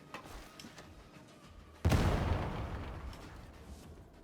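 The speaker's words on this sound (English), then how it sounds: "So just to show you when you're hitting and not hitting the explosion radius." A grenade goes off in Warhammer 40K Darktide, a sudden loud boom that rolls into a long rumbling decay. Faint gameplay noise runs beneath it beforehand.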